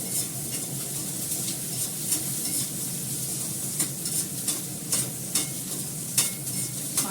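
Onion, garlic and ginger pastes frying in a pan, with a steady close sizzle punctuated by repeated scraping stirs of a spatula against the metal.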